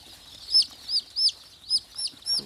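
Local chickens in a flock of about five hundred chicks on a small poultry farm give a rapid series of six clucks at an even pace, clear and close, with no voices over them.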